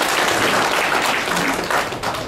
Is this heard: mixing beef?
no